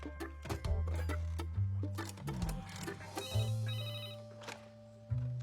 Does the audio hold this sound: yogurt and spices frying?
no